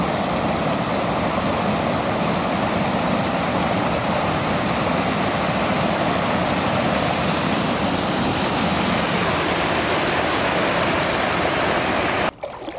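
A river runs through the woods in a steady, loud broadband rush of flowing water that holds constant for the whole stretch and cuts off abruptly at the very end, with no voices.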